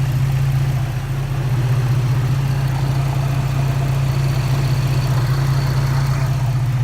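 A Dodge Nitro RT with the 4.0 engine idles with the air conditioning on, giving a steady, smooth low hum with a constant mechanical whir. It is close and loud, with no talking.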